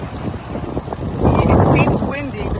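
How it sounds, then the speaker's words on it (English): Wind gusts outdoors buffet the microphone in a loud, rumbling roar that swells midway, while people talk over it. "It seems windy because it is."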